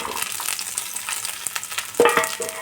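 Garlic, green chili, cinnamon and ginger fry lightly in a pan over very low heat, a steady close sizzle with soft crackles and a louder burst of spattering near the end, no voices.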